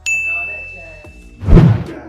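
A single bright notification bell dings near the start and rings out with a long clean tone, followed by a louder dull thump or clatter toward the end.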